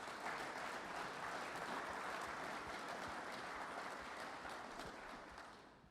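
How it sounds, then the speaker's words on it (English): Audience applause for Trev Alberts' introduction as Nebraska athletic director, a dense, steady wash of clapping from a crowd that holds evenly and tapers slightly at the end. "Let's give Garrett another round of applause."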